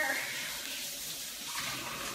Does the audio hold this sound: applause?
no